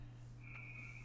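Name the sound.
frog croaking outside a house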